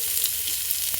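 Potato and cabbage fry for noodles, a dense, steady, close sizzle hissing throughout, with faint stirring ticks underneath.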